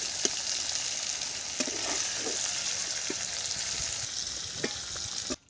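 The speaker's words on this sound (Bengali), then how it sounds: "সব সবজি একসাথে ভেজে ভেজে তুলে নেব।" Garden vegetables sizzling steadily in hot oil with a constant bright hiss, broken by a few soft stirring clacks. The sound cuts off abruptly at the end.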